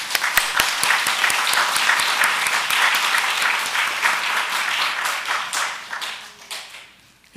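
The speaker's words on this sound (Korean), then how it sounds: "우리 박수로 합니다." A congregation at a Korean church worship service applauds: dense, loud, sustained clapping from many hands that holds steady for several seconds, then thins out and fades near the end.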